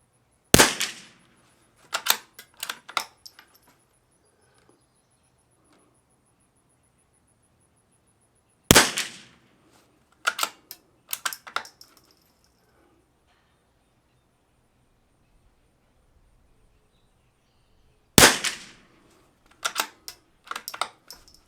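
Rimfire rifle shots from a Lithgow LA101/CZ455 with a Walther barrel firing Eley Tenex ammunition: sharp, close cracks separated by long quiet gaps, each followed by a flurry of crisp mechanical clicks from working the action.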